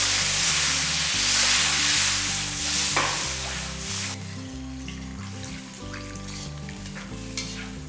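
Loud, steady sizzling and frying in a pan of mutton kola kulambu, with a burst of hissing as water hits the hot surface, then bubbling continues more quietly.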